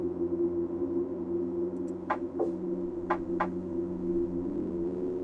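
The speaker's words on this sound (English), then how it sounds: "A series of strange tapping sounds come from the other end of the line." Morse code tapping over a phone line in the game Reverse: 1999, a few short tonal beeps in an uneven pattern over a steady low electronic hum.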